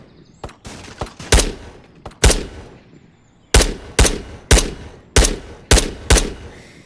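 Gunfire in the video game Ghosts of Tabor: a few scattered shots, then a steady run of six loud, evenly spaced single shots, close and sharp with short decays, and no talking.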